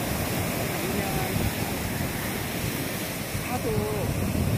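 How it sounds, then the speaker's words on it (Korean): Winter surf breaks on a famous Hawaii beach, a steady, loud, broad roar of ocean waves that runs without pause, with faint traces of a voice beneath it. "They have a beautiful wave here."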